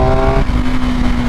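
A 2021 BMW R 1250 GS motorcycle with a BT Moto ECU flash revs loudly and close, a steady strained engine roar with a shifting tone partway through, alone without talk.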